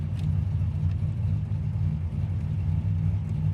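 A 1979 Pontiac Trans Am engine idles with a steady, deep rumble close by and unchanging throughout, with no other sounds over it.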